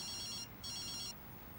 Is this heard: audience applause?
no